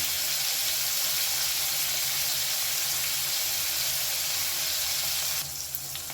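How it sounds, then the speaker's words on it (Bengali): Paneer pieces frying in hot oil while being turned over for Afghani paneer, giving a steady, dense sizzle close by throughout that eases slightly near the end. "এগুলো সুন্দর করে এপিট ওপিট করে ভেজে নেব"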